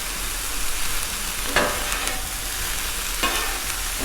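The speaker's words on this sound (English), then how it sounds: "let's mix these onions and the broccoli together now" Onions and broccoli are stirred together on a hot Blackstone griddle, giving a steady loud sizzle with a couple of sharp metal spatula scrapes, close up and with no speech.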